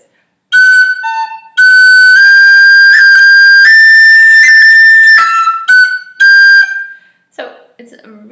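Tin whistle playing a variation on the third phrase of the Irish tune Kitty's Rambles, bright piercing notes in tongued runs with a few short pauses, very close and loud, ending in a soft breathy trail.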